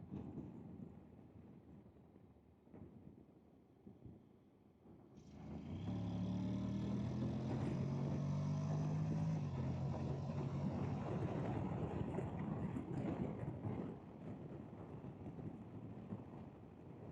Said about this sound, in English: Got a lovely throaty voice to this bike.